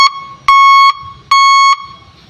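A backup alarm connected to battery wires sounds loud steady electronic beeps close by. Each beep lasts about half a second with a similar gap between, in an even repeating pattern, with faint background noise in the gaps.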